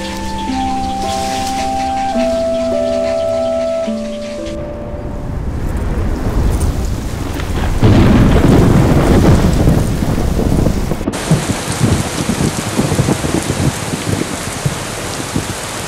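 Steady rain pours down over a river and nesting site, loud and continuous, with rumbling thunder and heavier downpour swelling midway, layered over faint music at the start.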